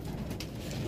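Low, muffled cooing of pigeons at a farm raising white, silver and red meat pigeons, a soft continuous murmur of several birds close by.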